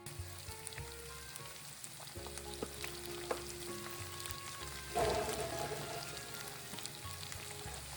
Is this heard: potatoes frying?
yes